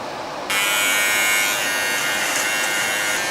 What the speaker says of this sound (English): I need to go shave the bottom of my chin, like my neck area.